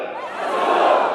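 A political rally crowd chanting a slogan back in unison, a loud sustained collective shout lasting about a second, close and full.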